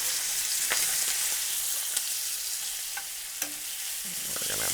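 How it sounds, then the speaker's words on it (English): Butter sizzles and bubbles around a ribeye steak in a hot pan, a constant close frying hiss with a few sharp spatters and soft scraping as the butter is moved. "So add a tab of butter. Move that butter around slightly."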